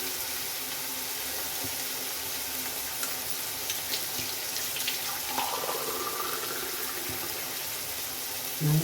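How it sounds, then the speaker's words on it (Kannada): Water pours steadily into a cooking pot of seasoned upma (vegetable uppittu) on the stove, a soft continuous splashing rush with faint sizzling and clinks close by, no voices. "ಇದು ಅದಕ್ಕೆ ನೀರು ಹಾಕ್ತೀನಿ"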